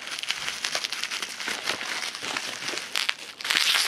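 Scissors cut open a crinkly plastic package, producing continuous close crackling and crinkling with a louder rustling burst at the end.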